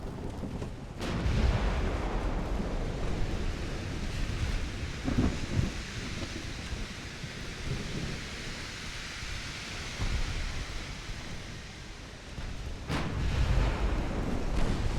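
Heavy warship gunfire from a naval battle in the game Ultimate Admiral: Dreadnoughts, a continuous deep rumbling roar of booming salvos with louder surges near the start, middle and end, no talk.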